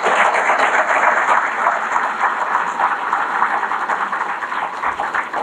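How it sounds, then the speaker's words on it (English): Sustained audience applause at the 72nd Annual Heart of Wisconsin Chamber of Commerce awards banquet, a dense, steady roar of many hands clapping throughout, loud and unbroken, with no talking over it. "Please give them a round of applause."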